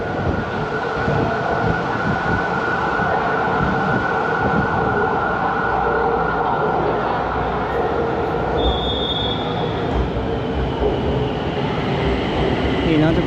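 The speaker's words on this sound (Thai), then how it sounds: "นี่เนาะทุกคนรถไฟฟ้าเนาะ" A BTS Skytrain electric train in Bangkok rumbles steadily past close by, its wheels squealing on the rails and a brief high tone rising partway through, with faint talk beneath.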